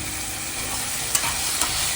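Eggplant pieces dropped into a hot chili tempering with garlic and onion, giving a steady, close sizzle and frying hiss with a couple of brief stirring clinks and no voices.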